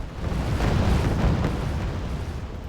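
Bombing-run explosions in the war strategy game Wargame: Red Dragon, heard as one loud, sustained, deep rumbling blast that rolls on for a couple of seconds without a break.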